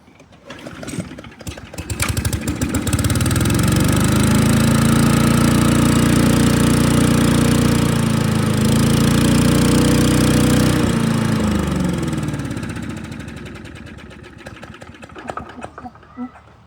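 Rover Power Master lawn mower with a Briggs & Stratton 37 engine and original handlebar snorkel starting up, then running steadily with a loud, close engine drone for about ten seconds before winding down.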